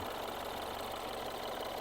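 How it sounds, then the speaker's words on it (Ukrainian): A 2014 Mini Cooper S 1.6 petrol engine with automatic gearbox idles smoothly with a steady, even hum and light mechanical ticking, continuous and close. "Двигун працює рівненько, спокійно, без зауважень"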